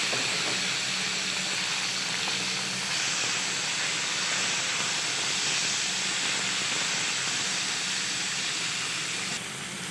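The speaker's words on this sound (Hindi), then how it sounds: "अब हम टमाटर ऐड करेंगे।" Tomatoes added to browned onions in a pan for beef kaleji masala, giving a steady, loud, steamy sizzle that holds evenly for several seconds before easing slightly at the end.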